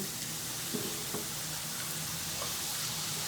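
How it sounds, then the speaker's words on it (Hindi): Thin strips of papdi dough frying in hot oil in a kadai, giving a steady, even sizzle and crackle with a few faint clinks, and no talking. "यहाँ पर एक कढ़ाई में ऑयल हमारा अच्छे से गर्म हो गया है और अब हम पापड़ियों को फ्राई कर लेंगे।"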